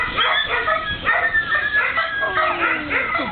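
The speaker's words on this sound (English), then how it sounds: "The dog." A dog yips, whimpers and barks in short excited bursts close by, the calls rising and falling rapidly throughout.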